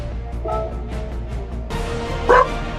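A dog barks repeatedly and loudly at close range, sharp yelping bursts in quick succession, with one especially loud bark near the end.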